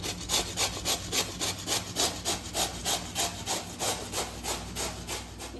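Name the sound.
grating bottle gourd for sooji handvo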